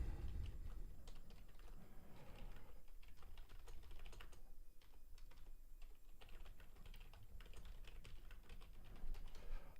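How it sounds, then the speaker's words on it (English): Rapid, continuous clicking of keys being typed on a computer keyboard, quiet and close, with no talking. "If you did hear typing,"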